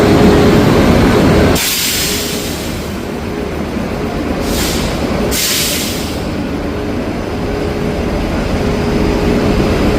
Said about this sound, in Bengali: তার প্রথম দিনে লোকোমোটিভ আছে কল্যাণ শেডের WAP5, যার লোকো নম্বর 30109।